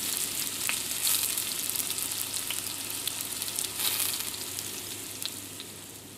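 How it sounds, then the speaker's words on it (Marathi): Onion, curry leaves and green chillies fry in hot oil in a pan for poha, giving a steady close crackling sizzle with scattered pops and no voices. "हलकासा गुलाबी रंग येईपर्यंत कांदा छान परतून घ्यायचा।"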